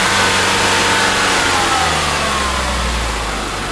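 Mazda CX-9 2.5 turbo engine revving up to about 3,500 rpm and holding steady, a loud, continuous close-up drone that eases slightly toward the end.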